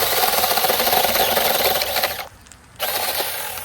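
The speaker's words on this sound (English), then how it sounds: "That's a cool little chainsaw, Yeah, Johan." A small chainsaw buzzes steadily at close range, cutting out briefly for about half a second before starting up again.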